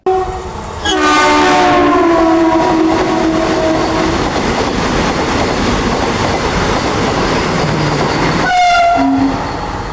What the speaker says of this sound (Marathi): हे गेलेली रेल्वे कुठली आहे ती कमेंट करून सांगा.